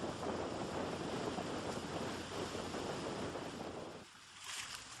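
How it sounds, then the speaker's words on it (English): Sailboat pounding through six-foot seas in 30 knots of wind, with loud continuous rushing water and wind buffeting the microphone, easing briefly near the end. "We're in 30 knots of wind and 6-foot seas"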